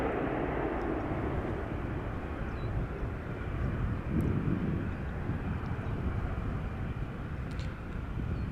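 KLM Boeing 737-800 jet airliner at Amsterdam airport, a broad steady engine roar that holds at an even level throughout, moderately distant with no voices.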